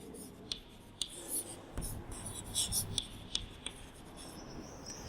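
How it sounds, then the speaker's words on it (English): Chalk or marker scratching out a word on a classroom board in short strokes and taps, close and fairly quiet, with no talking. "So I'll write it here."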